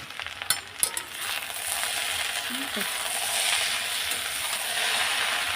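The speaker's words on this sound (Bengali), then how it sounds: "এখন আমি নাড়াচাড়া করে নেব" Food in a pan sizzles steadily after salt is added, with a few scraping clicks of a spoon stirring at the start and a continuous frying hiss throughout.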